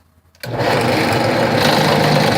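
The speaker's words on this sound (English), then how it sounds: "I'm using a 2 1/8 inch hole saw." A loud, steady whirring cut begins abruptly after a short silence and holds at a constant level, a 2 1/8 inch hole saw grinding through wood.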